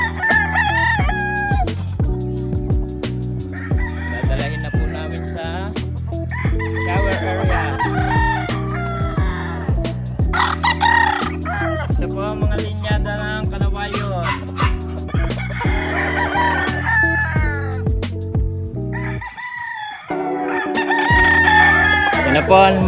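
Kanawayon hatch chickens crowing and clucking nearby, repeated loud cock-a-doodle-doo calls mixed with steady clucks through the whole stretch, with a short quiet gap near the end.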